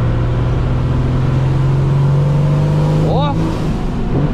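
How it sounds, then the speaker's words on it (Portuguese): A Chevrolet Silverado's six-cylinder MWM diesel engine revs hard with a loud, steady, rising roar as the turbo spools up. A voice cuts in briefly near the end. "É muito massa esse barulho, cara, de turbina enchendo."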